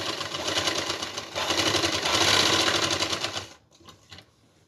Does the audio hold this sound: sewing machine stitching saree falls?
yes